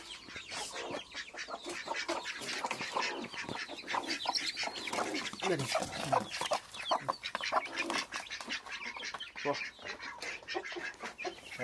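Chickens cluck continuously at close range, with overlapping calls, and a person talks over them.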